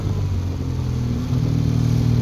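A BMW R1200 GS Adventure motorcycle pulls out of curves in third gear, its engine a steady, loud near drone that rises slightly in pitch and strength partway through, with no voices.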